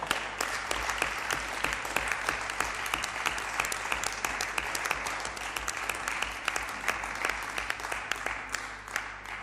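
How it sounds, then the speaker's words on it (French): Steady applause fills a senate plenary session chamber, many hands clapping evenly and continuously over a low constant hum, with no pause. "clairement les applaudissements signifient l'accord de cette réunion"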